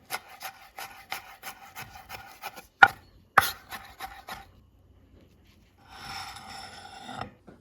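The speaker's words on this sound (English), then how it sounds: "I use about 15 grams of shallots and mince them finely, along with 2 cloves of garlic." A knife taps rapidly and steadily on a board mincing shallots and garlic, with a couple of sharper louder knocks, a brief quiet pause, then softer scraping near the end; close, no talk.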